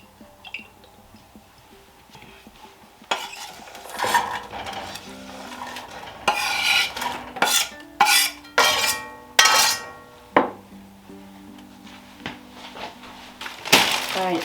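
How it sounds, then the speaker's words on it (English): Chopped onion and pepper sautéing in extra virgin olive oil in a pot: a soft sizzle beneath repeated spoon scrapes and stirring clacks against the pot, close and intermittent. "I'm going to saute the onion and pepper together until they are tender"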